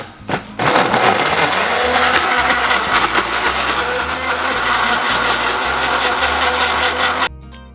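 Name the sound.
blender mixing goat cheese mousse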